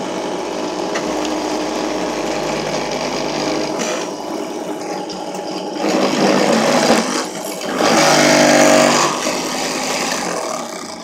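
A drill press mills plastic, giving a steady close mechanical whir with grinding cutting noise that swells louder in bursts near the middle and end as the tool bites into the workpiece; no speech.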